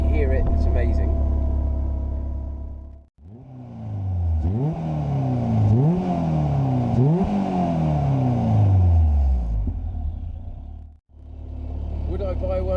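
Caterham Seven 270S sports car engine revving hard up close, several rising and falling sweeps of loud engine roar between steadier idling passages, with brief cuts in the sound.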